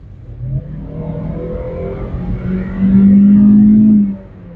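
Car engine revving hard as it accelerates in S mode with a CVT-style transmission, a loud steady drone that climbs and holds near the top of its range before dropping off, heard alone.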